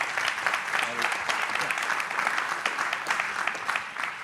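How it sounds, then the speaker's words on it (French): Audience applause at a talk, steady dense clapping from a room of people, lasting the whole stretch before thinning slightly at the end. "Ça ne s'applaudirait pas, ça?"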